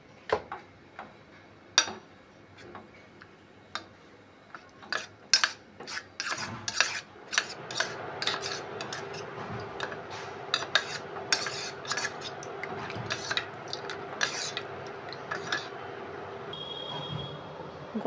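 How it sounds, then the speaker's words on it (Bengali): A spoon stirs fruit custard powder into cold milk in a bowl, opening with sharp scattered clinks against the bowl and settling into a continuous scraping, rubbing swirl with occasional taps. "সেটাতে 3 টেবিল চামচ ফ্রুট কাস্টার্ড ভালো করে মিশিয়ে নেব।"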